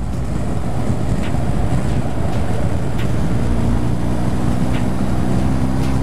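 A 2021 BMW R1250 GS Adventure motorcycle on a test ride, its engine drone buried under heavy, continuous wind buffeting at the microphone, loud and close throughout.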